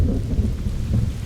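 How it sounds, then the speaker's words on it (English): Heavy thunderstorm lashing the east coast of Scotland on a winter night, with deep continuous rumbling thunder and steady pouring rain, loud and close throughout with no voices. "The east coast of Scotland is being battered by the worst storm"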